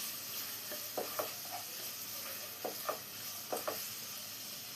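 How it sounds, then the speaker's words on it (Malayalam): Finely chopped onions sautéing in coconut oil, a low continuous frying hiss broken by several quick pairs of spatula scrapes and stirs, faint and close. "ഞാനിവിടെ 2 സവോളയാണ് പൊടിയായി കട്ട് ചെയ്ത് ഇട്ട് കൊടുക്കുന്നത്."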